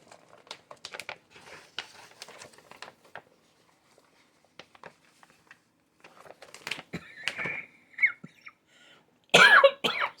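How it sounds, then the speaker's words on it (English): Quiet rustling and handling sounds, then a harsh, close cough near the end. "I still have the cough."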